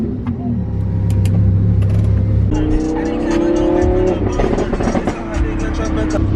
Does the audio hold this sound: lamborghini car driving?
yes